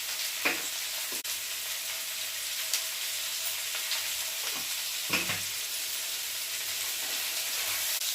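Ginger garlic paste and turmeric fry in oil for a bitter gourd and tomato curry, a soft continuous hiss with occasional spoon scrapes and clatters against the pan, close and quiet, no talking.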